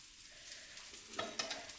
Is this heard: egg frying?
yes